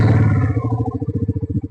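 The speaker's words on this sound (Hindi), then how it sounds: "पहले बाइक स्टार्ट ही करनी पड़ेगी हमें।" Bajaj Pulsar NS400Z motorcycle engine starting: a brief loud crank catches into a rough, pulsing idle close by.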